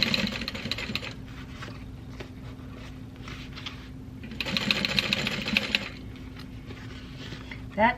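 A sewing machine topstitches a seam on a fabric rose handbag, running in short, close bursts of rapid mechanical chatter separated by quieter pauses, with a light clatter near the end.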